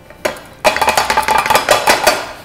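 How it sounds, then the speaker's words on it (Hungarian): A polycarbonate bonbon mold filled with chocolate is shaken and tapped on a kitchen surface, giving a brief knock and then a rapid, rhythmic run of close, loud clattering raps. "megrázogatjuk, megütögetjük"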